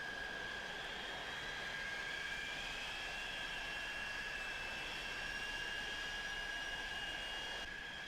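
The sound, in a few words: aircraft taxiing at Manchester Airport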